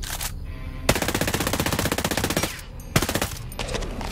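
Automatic rifle fire with heavy recoil in the shooter game Ghost Recon Breakpoint: loud, rapid bursts of close gunshots, one long burst of about a second and a half, then shorter volleys with brief gaps.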